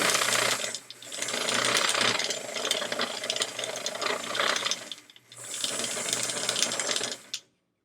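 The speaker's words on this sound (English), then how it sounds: "This is getting unscrewed. I'm like, this sounds so rattly." A sewing machine with a part working loose runs with a loud, rattly mechanical clatter in two long bursts separated by a short pause, then stops abruptly.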